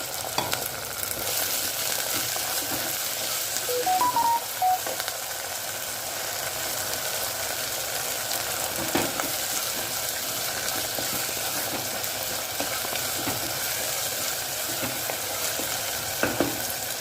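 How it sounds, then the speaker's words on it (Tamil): Spring onion and spices sauté in a pan for a brinjal kuzhambu, producing a loud, continuous close-up sizzle with occasional stirring scrapes and brief clinks layered over the steady frying noise. "நல்லா அத்தனையும் வதங்கி செய்யணும்."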